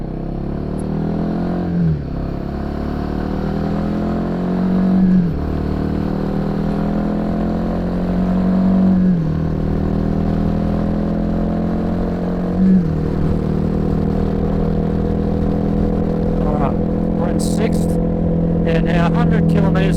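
Royal Enfield Himalayan 450 motorcycle accelerating through the gears on an open road, engine pitch rising in repeated sweeps with brief dips at each shift, loud and close with wind noise.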